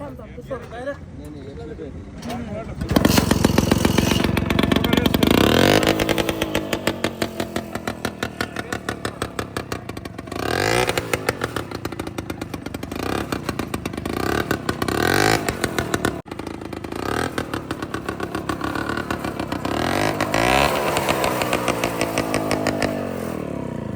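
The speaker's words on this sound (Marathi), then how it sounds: "मारा किक हाफ किक मध्ये हा ट्रॅक्टर चालू होतो" A mini tractor's small engine chugs and revs steadily, loud and close, its rapid putter continuing for most of the stretch while voices talk over it.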